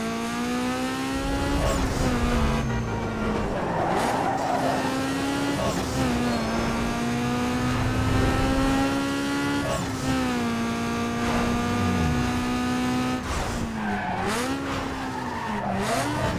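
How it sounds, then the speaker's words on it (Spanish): Audi race car in Need for Speed Underground 2, its engine droning steadily at high revs with shifting pitch and occasional tire skids, loud and continuous throughout. "suena bacán el auto"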